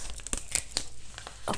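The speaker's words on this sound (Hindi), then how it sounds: "देखो कार्ड कैसे गिर गए" Tarot cards fall with a few quick, soft papery flicks and slaps, faint and close, spread over under two seconds.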